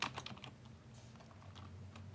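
Keys clatter on a computer keyboard in a quick, faint flurry of taps that thins out over two seconds, alone without talk against a low hum.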